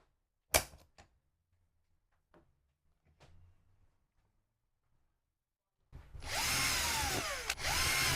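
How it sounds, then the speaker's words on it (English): A few faint clicks and taps, then a power drill whirs up loudly drilling into plastic and runs steadily for a couple of seconds, with a brief dip in pitch. "now we're going to drill on the plastic."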